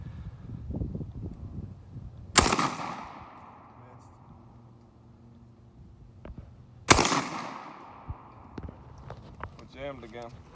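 Two loud, sharp shots from a Panzer Arms BP-12 bullpup shotgun fired outdoors, spaced several seconds apart with a ringing decay after each, while people talk quietly between them.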